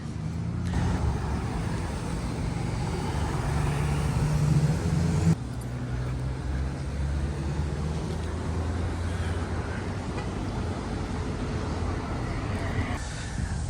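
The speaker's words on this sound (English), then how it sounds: "There's so much traffic out here." Steady roar of road traffic at the busy corner of Del Amo and Pioneer in Lakewood, California, with engines rumbling continuously and a loud surge partway through, heard outdoors without talk.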